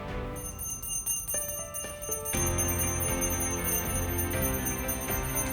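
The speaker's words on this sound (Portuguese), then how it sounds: "agora você pode tocar o sino" A bell rings out several times with clear, sustained metallic tones that linger and overlap, no voices heard.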